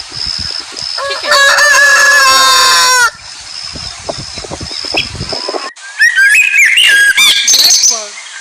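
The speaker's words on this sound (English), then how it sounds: "Chicken." A rooster crows loudly and close, a long bright call, followed by softer chicken clucks and a second burst of crowing with chirpy calls.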